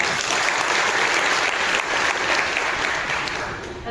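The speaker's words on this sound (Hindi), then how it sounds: "बच्चों के लिए जोरदार तालियां" Loud, dense applause from a crowd at a constitutional awareness session, cheering on schoolchildren, sustained and steady for the whole stretch with no talk over it.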